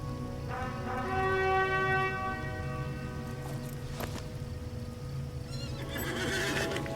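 A horse in the online game Lord of the Rings Online lets out a loud, drawn-out whinny close by, then hooves clip-clop in quick succession as it crashes through a city, with a sharp clack near the end.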